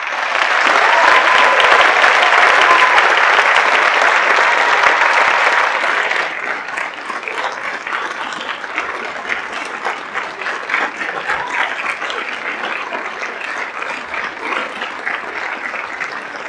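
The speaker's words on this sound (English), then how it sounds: "could we please have one last round of applause for all our honorees" Sustained applause from an audience honoring staff honorees and retirees at a school recognition ceremony, a dense roar of clapping that holds steady then thins slightly but continues throughout.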